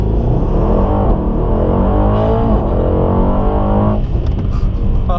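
A Mercedes-AMG E63S launches from 0 to 60 on level ground with two people aboard, its engine roaring loud and rising steadily in pitch before a brief shift break near the end.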